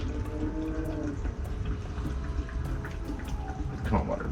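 Aquarium water gurgles and trickles into a shaker cup, a continuous close splashing fill with small drips, fairly quiet throughout.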